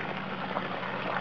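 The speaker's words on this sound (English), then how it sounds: "I'm draining because I need to replace the water" Water drains steadily from a gravel processing box used for mining sapphires, a continuous soft rushing and gurgling flow at even level with no pauses.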